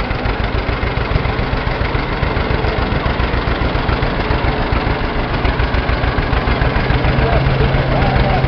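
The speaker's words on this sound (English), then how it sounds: "Model D John Deere tractor" A John Deere Model D tractor idles at a county fair parade, its engine giving a loud, close, steady rhythm of low pops that runs evenly throughout.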